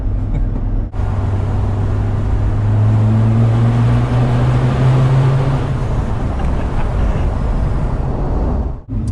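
A Land Rover Discovery 2 with a Storm Tuning Stage 3 tune, heard from inside while driving, gives a muted exhaust burble under a continuous low drone and road noise.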